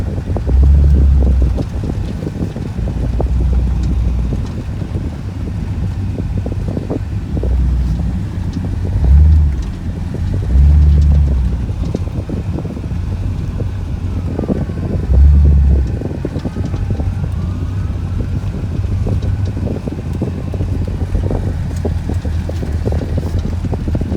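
A 1974 Chevrolet Blazer drives around a building with a steady engine rumble, its low throb rising in a few louder surges, while wind buffets the microphone throughout.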